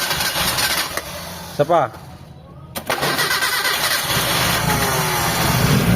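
Engine cold-starting after a piston repair: a cranking burst, a brief pause, then the engine catches and runs at a steady, loud idle, with people talking over it.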